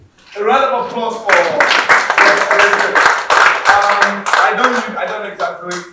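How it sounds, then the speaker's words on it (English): Audience applause with clapping that builds quickly and continues, mixed with voices and cheering in the room, during a visit by the Nigerian High Commissioner. "A round of applause for him again"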